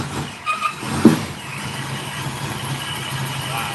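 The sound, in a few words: Ford Mustang engine running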